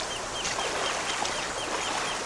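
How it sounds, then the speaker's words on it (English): A duck calls with short repeated quacks over a steady outdoor wash of background noise, moderately close, with no talking. "There goes the duck, Tom."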